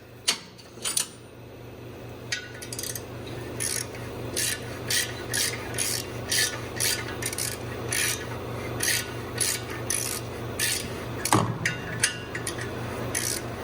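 Normal hand ratchet working a bolt on an engine near the throttle cable: a steady run of rapid clicking rasps in repeated strokes, close and fairly loud over a low steady hum, with a sharper knock near the end.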